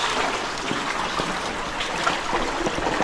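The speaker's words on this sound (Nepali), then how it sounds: "यत्रो धेरै पानी आइसकेको छ।" Floodwater rushes through a flooded street in Kathmandu, Nepal, with a continuous loud churning and splashing gush close by. It stays steady throughout, with no speech over it.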